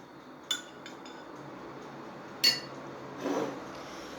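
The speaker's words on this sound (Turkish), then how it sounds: "3 yemek kaşığı ev yoğurdumuzu koyuyoruz" Tablespoons of homemade yogurt going into a container while making a diet ayran detox drink: three light metallic clinks of a spoon against the dish, spaced over a few seconds, against a faint quiet background.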